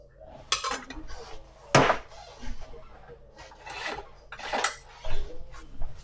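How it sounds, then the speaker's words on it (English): A small wooden skewer stick stirs zeolite clay into a drink in a glass, giving close, dry scraping and rasping strokes in irregular bursts with a few sharper knocks against the container. "I just stir them with a little wooden skewer stick"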